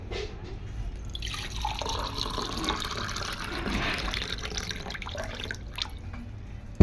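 Water is poured into a vessel at a meal of mashed boiled potatoes with chilli, a steady close splashing and trickling that runs for several seconds and ends with a faint clink.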